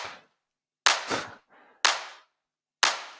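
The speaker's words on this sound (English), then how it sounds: "Gnarly clap." Four separate punchy clap samples from a music track mix, each a sharp loud crack with a short bright decay, spaced roughly a second apart, with a softer hit between the second and third.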